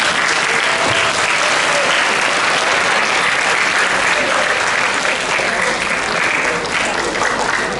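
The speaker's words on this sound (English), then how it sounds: "Could everyone please give them a huge round of applause to each department?" A high school assembly audience claps loudly and without a break, a dense, even wall of applause from a large crowd.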